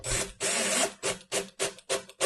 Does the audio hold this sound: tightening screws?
yes